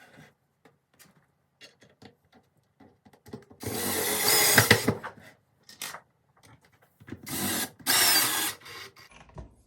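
A power drill with a screwdriver bit drives screws while an IKEA DALFRED bar stool is assembled, giving two loud bursts of whirring several seconds apart amid sparse clicks and handling noises.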